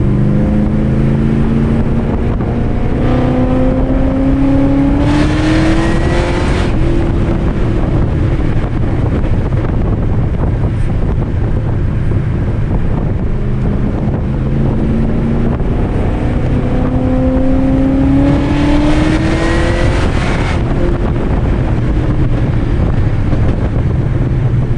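A 625whp Pontiac G8 engine revving at wide open throttle, two long rising pulls with steady exhaust roar and heavy wind buffeting on the microphone throughout.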